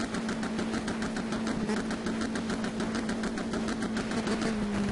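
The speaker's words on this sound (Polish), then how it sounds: "Ale silnik, tu się zażynamy, ten silnik." Rally car engine in the racing game Dirt 2, driven hard on a fresh engine: a steady, fairly quiet mid-pitched drone with a constant hum and no clear revving swells, heard alone without talk.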